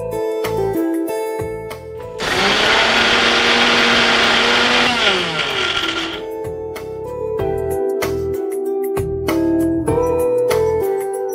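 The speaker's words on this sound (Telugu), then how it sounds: "ఈలోపు మనం మిక్సీ పట్టేసుకుందాం." A mixer grinder whirs loudly for about four seconds as it grinds seeds and nuts for a laddoo, then its motor winds down, with background music playing before and after.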